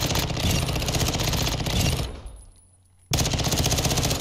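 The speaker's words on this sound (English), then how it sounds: "this thing is better off burst firing instead of holding down the trigger" A platinum pistol in Modern Warfare 2 fires in rapid, loud bursts, a dense rattling stream of shots that stops briefly, then resumes at full volume.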